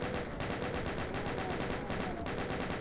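Chaingun fire in Doom II, a continuous rapid stream of evenly spaced shots at steady loudness with no talking over it.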